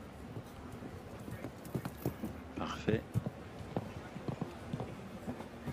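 Horse hooves striking turf at a show jumping final in Aix-la-Chapelle, with irregular thuds and clip-clops heard faintly at a distance under a commentator's voice.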